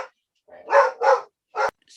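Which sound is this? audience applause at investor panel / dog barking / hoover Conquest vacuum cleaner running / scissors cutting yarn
dog barking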